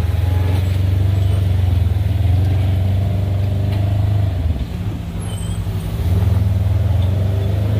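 A Mack truck pulls away from a woodcutting yard, its engine a loud, steady low rumble that dips briefly mid-way, then swells again as it shifts up a gear.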